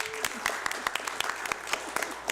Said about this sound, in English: we appreciate the applause nonetheless